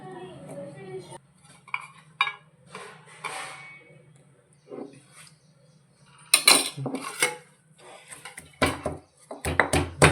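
Small cut pieces of fresh ginger are pounded by hand in a home kitchen, giving sparse knocks and clinks at first, then a quick burst of sharp, irregular strikes close up near the end.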